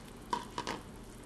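Soup with Thai green eggplant and jalapeno peppers being stirred in a pot, making two or three quiet clinks and swishes in brief succession against faint background noise.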